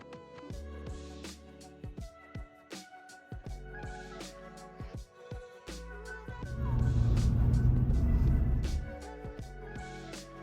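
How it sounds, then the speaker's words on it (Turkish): A shuttle bus pulls up at Erbil airport, its engine rumble swelling loud and close midway, amid sharp clicks and ticks nearby. "Bir otobüs geldi. Bizi otobüs alıyor."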